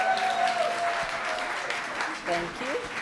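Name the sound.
wedding guests applauding the bride's mother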